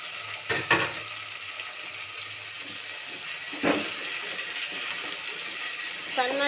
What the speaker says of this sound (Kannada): ಇದು ಎಣ್ಣೆಯಲ್ಲಿ ಸ್ವಲ್ಪ ಚೆನ್ನಾಗಿ ಫ್ರೈ ಆಗಬೇಕು